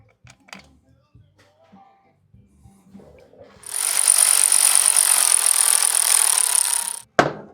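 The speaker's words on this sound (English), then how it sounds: "You always want to snug the oil pump down last after the outer bolts." Snugging down the oil pump bolts on a Harley-Davidson cam chest, a ratcheting or power-driver whir runs loud and steady for about three seconds and stops sharply, after scattered quiet clinks and handling noises.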